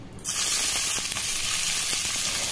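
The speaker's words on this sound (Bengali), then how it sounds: "তেল গরম হয়ে গেলে এতে দিয়ে দেবো পেঁয়াজ কুচি" Chopped onions hit hot white oil in a frying pan, breaking into a steady, close sizzle and hiss that holds unbroken after a brief quieter start.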